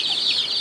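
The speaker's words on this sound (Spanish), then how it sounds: "están los bebés de pollos de engorde" Broiler chicks peep and cluck in a dense, continuous chorus, a shrill flock chattering close by with no talk over it.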